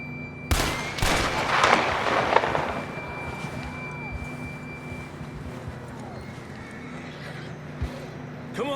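A horse whinnies in the Red Dead Redemption 2 video game, a loud neigh rising after a sharp bang, followed by quieter hoofbeats, distant shots and faint voices across a wide outdoor scene.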